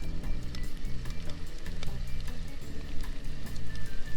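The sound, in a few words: pork belly sizzling over coals in hobo oven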